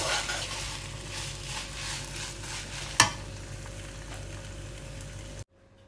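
Chicken filling for panini sandwiches stirred and mixed in a pan, a steady sizzle with repeated utensil scrapes and one sharp clank near the middle, close and moderately loud, cutting off abruptly near the end.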